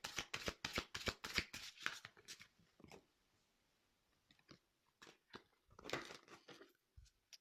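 Tarot cards are riffled and shuffled close up in quick bursts of crisp flutters, then a quiet pause. A few scattered flicks follow before another burst of shuffling. There is no talking.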